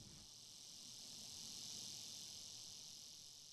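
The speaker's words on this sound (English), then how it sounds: "his parents, Dover and Bessie Carter, a chorus of crickets and cicadas greet us." Crickets and cicadas at a country church cemetery in Georgia keep up a steady, faint, high-pitched chorus that never pauses, with no voices over it.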